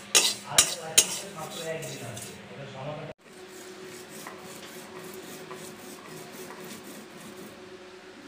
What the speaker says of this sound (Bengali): তো গাইস, এই যে পাটায় গুঁড়া করে দিচ্ছি।